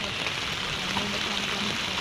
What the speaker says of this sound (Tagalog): Tingnan nyo naman oh. Kung paano yung agos niya.